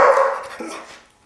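A dog barks on command, one short sharp bark followed by a softer second yelp, close and alone.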